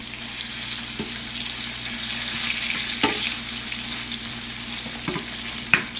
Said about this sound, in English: here's the second time I'm flipping it. Just to kind of get it all browned up.